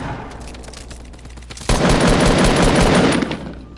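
Fortnite gunfire erupts partway through, a sudden loud burst of rapid shots that rolls on for about two seconds over a steady game background before tapering off.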